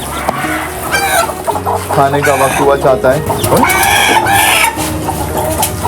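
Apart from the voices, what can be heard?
rooster clucking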